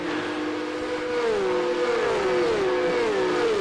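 A Formula-style race car engine from the iRacing sim, similar to an F3 or F4 car, revs up and shifts through gears in a rising, whining pattern, loud and close, with no talk.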